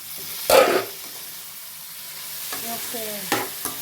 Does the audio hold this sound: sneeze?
no